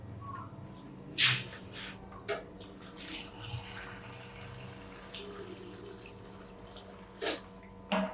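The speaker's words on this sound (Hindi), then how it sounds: "अब हम इसमें उतना पानी डालेंगे कि बस ये थोड़ा इसके साथ उसके अंदर ना डिप हो जाए" Water poured into a cooking pan holding garlic and ginger for a homemade ginger-garlic paste, heard as a few brief splashes and clinks spaced over a quiet, low background hum.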